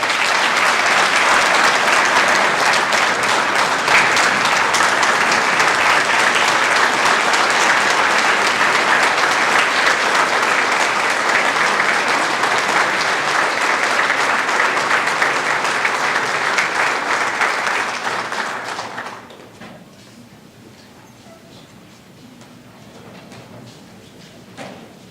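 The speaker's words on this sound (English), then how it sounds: "Let's give our great Lieutenant Governor, next Governor of North Carolina, another big round of applause." A large audience at the 2019 Nash County GOP convention in North Carolina claps for the Lieutenant Governor. Loud, dense, steady applause runs for about nineteen seconds, then breaks off abruptly into a quieter murmuring room.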